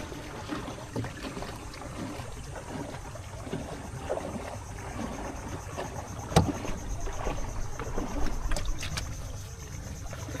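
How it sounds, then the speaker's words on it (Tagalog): A large boat approaching on open water, with a steady wash of water and engine rumble and a few sharp knocks; no one speaks. "may paparating na dako-dako na sakayan. Malaking bangka."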